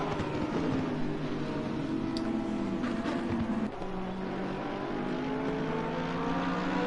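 Porsche and Mercedes GT race cars in Assetto Corsa Competizione racing at Barcelona, engines droning and shifting pitch steadily throughout as they run close together, with no talk.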